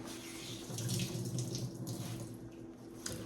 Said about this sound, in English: I just give it a really good squeeze. And you can see there's a lot of water coming out of this